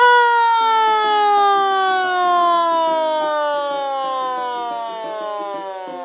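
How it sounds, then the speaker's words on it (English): A loud, steady fire engine siren with a slowly falling wail, with light music faintly beneath it. "Fire engine."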